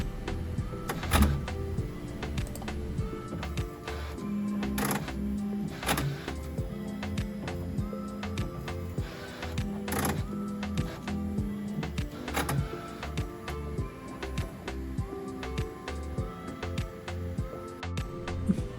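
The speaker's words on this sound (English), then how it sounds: "That noise you hear during the initial bed leveling process is normal." A Bambu H2D 3D printer runs its initial bed-leveling routine: whirring stepper motors and repeated short mechanical buzzes and clicks, with sustained tonal motor hums recurring at intervals, close and steady throughout.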